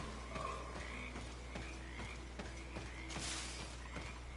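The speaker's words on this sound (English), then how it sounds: "All the frogs croaking." Frogs croaking in the video game Greedfall, a chorus of short repeated calls spread through the clip over a steady low ambient hum, moderately loud with no talking.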